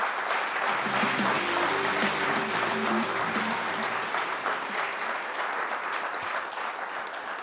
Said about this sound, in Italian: quindi un grossissimo applauso anche per loro.